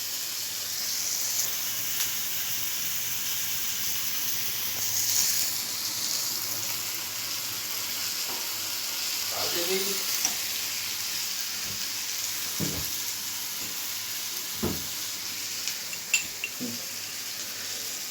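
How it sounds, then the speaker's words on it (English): Food fries in a pan with a constant soft sizzle and hiss, broken by a few scattered clinks and scrapes from stirring, all at moderate volume with no voices. "then again you stir it thoroughly"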